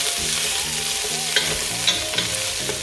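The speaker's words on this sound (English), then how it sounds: "Then we'll add the onions. Stir it." Chopped garlic and onions fry in heated oil while being stirred, giving a steady broadband sizzle with a few sharp scraping clinks of the spoon against the pan, close and fairly loud, backed by quiet music.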